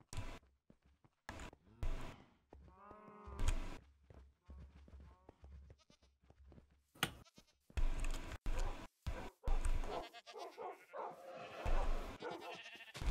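Rainbow sheep bleat in a video game, with several wavering bleats early on that give way to bursts of clattering and game effects. Spoken lines come in between the sounds.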